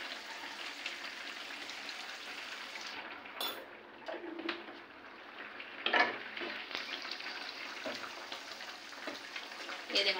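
Cumin frying in a pan for a fish and okra curry, a faint steady sizzle with occasional scraping stirs, while birds coo softly in the background.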